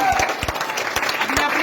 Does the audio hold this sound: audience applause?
yes